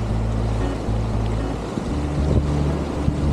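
A cold wind blows by the sea in a Portuguese coastal town, a continuous low rumbling gust against the microphone with a faint steady hum beneath and a brief dip midway, no talking.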